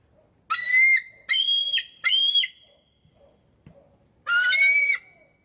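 A pet bird in an aviary facility whistles four loud, clear, rising-and-falling phrases, close and alone, separated by short quiet gaps.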